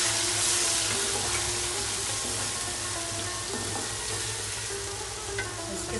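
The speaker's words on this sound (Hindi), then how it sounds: "अब इसमें हम ज़रा सा पानी के छींटे डालेंगे।" Chicken sizzles and fries in a pan after a splash of water, giving a steady, close hiss and crackle with faint stirring and no talking.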